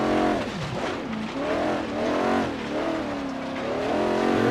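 A 1972 Mercedes-Benz 300 SEL engine in Forza Horizon 3 revs up and down in repeated swells, loud and close, with tires briefly squealing, on an uphill climb.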